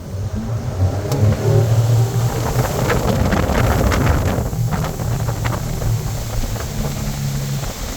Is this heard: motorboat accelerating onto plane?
yes